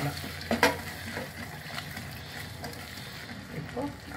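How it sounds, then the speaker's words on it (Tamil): Prawns frying in a pan of oil for prawn biryani, giving a soft, steady sizzle with a few louder crackles and stirring noises near the start, close and fairly quiet throughout. "இந்த பிரானை எடுத்து போட்டு நல்லா உணக்கிக்கலாம்"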